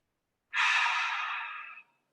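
A deep, audible breath drawn in during a yoga class, a single long airy inhale lasting over a second, close and clear, fading gradually with no talk around it.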